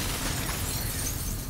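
Glass shattering in the shooter F.E.A.R., a brief, loud crunching burst of breaking panes spread across a dense, noisy wash that fills the whole moment without pause.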